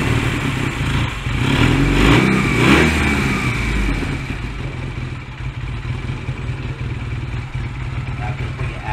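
Honda Rebel 125 single engine running cold after a carburetor adjustment, a close uneven rumble that swells briefly then settles to a lumpy idle, with someone speaking over it.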